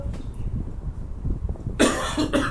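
A person coughs sharply a few times close by, loud bursts near the end following a stretch of quiet room noise.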